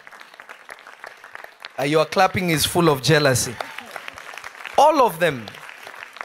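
A church audience claps in bursts while a preacher speaks. The applause rises under and between his words, fairly close and lively, and fades briefly before a second swell.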